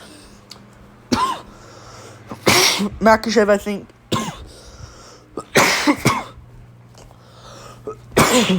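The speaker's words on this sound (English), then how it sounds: "Was coughing a lot there for some reason." Several harsh, explosive coughs close to the microphone, scattered irregularly between brief bits of speech over a faint steady hum.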